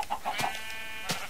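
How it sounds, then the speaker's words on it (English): A Minecraft chicken gives a few short clucks, moderately close, with a brief game sound effect and no talking. "Chicken."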